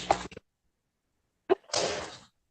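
A single sharp sneeze bursts out in a quiet courtroom, followed by a short pause and then a voice speaking.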